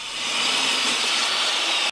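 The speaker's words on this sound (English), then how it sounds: "For one of the 2x4s, I'm cutting them in half" A power saw cuts through a 2x4 in one steady, loud whine lasting nearly two seconds, then stops abruptly, heard close with no talk.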